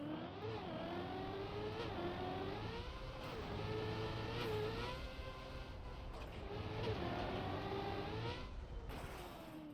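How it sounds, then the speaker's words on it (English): A car engine in the racing game Trackmania drones continuously and rises and falls in pitch as it revs through gear changes, steady and close throughout with no talking. "I feel like I can hear my car a little bit better."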